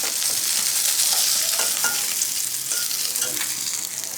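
Small tengra fish fry in hot oil with a loud, dense, continuous sizzle and crackle that stays close and even throughout.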